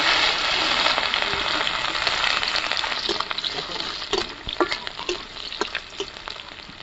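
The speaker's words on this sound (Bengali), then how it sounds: "তেল গরম হয়ে গেছে আমি দিয়ে দিচ্ছি কিছুটা রাঁধুনি ফোড়নে রসুনগুলো থেতো করে নিয়েছি আমি এটাও দিয়ে দিচ্ছি" Radhuni seeds and crushed garlic hit hot oil for a village-style jute leaf dish, giving a dense, close sizzle that thins into scattered crackles and pops as frying settles, with no talking.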